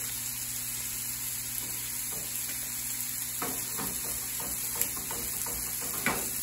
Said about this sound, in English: Got my nice rubber-coated whisk here to the nonstick pot.